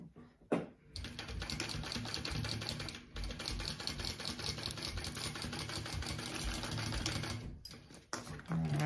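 A sewing machine basting the flap onto a bag, a fast rattling needle run that stops briefly midway and again near the end, close and loud with no talk over it.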